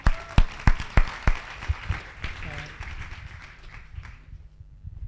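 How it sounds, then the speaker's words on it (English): Applause for a youth climate team at a COY 14 inauguration event: a few sharp, separate claps open, then a scattered round of clapping with voices talking over it, thinning out toward the end. "Another round of applause for Yungo team"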